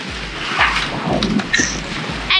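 Waves slapping against the hull of a sailing catamaran at sea, loud close splashes and rushing water with a rumbling low wash, recurring every half second or so under wind, with no talking.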